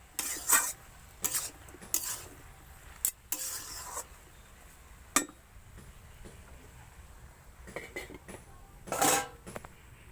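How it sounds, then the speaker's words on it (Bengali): Curry of Malabar spinach with fish head, salt and turmeric added, being stirred in a pot: intermittent scraping and clattering spoon strokes against the metal rim, with quieter gaps between bursts. "লবণ আর হলুদ দিয়ে দিচ্ছি ভালো করে নেড়ে চড়ে আবার ঢাকা দিয়ে দেবো"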